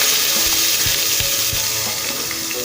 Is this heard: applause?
no